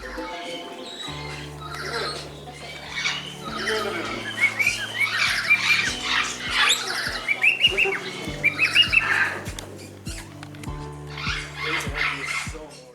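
A lesser vasa parrot calls at a parrot rescue in Oedelem, Belgium, giving repeated squawks and chirping notes over a steady low background tone, fairly close and loud.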